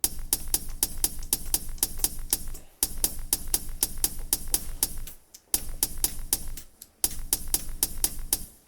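Crisp hi-hats tick in a bouncy swung rhythm over a low thump, looping with brief pauses between bars.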